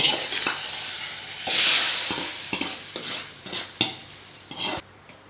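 A spoon scrapes and clinks against a metal pot in irregular strokes while stirring payasam, with a soft sizzle and hiss underneath.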